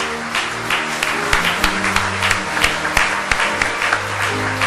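A church congregation applauds steadily through a worship service, a dense even roar of many hands clapping close and loud, with no voices rising above it.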